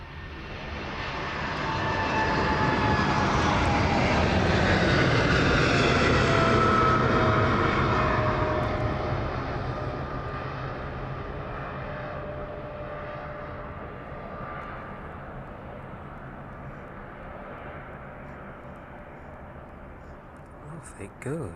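An airplane takes off from the East Midlands Airport runway in the evening, engine roar swelling to a loud peak then slowly fading as it climbs away.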